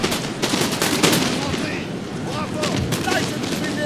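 Infantry musket volleys crackle continuously in the Napoleonic-era battle game Napoleon Total War, with dense overlapping shots and rumbling booms from a close firefight, and someone talks over the gunfire.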